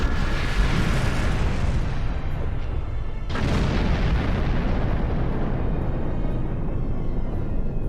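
Explosions rock a starship under attack in the space combat game Star Trek Online, a dense continuous roar of blasts and rumble with a sharp new burst midway, loud throughout and no voices.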